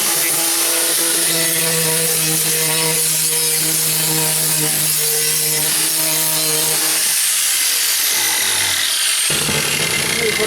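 4.5-inch angle grinder with a worn-out blade spinning up against a rusty floor pan on a Ford Ranger, a loud steady whine and rasp running for about seven seconds before winding down, then a fresh burst.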